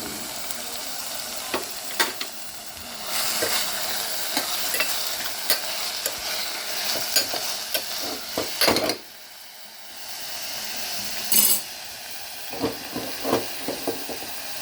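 Two handfuls of chopped fenugreek leaves fry and sizzle in a pan while being stirred for methi pulao, with steady crackling, repeated scraping strokes and a brief pause midway; no talking.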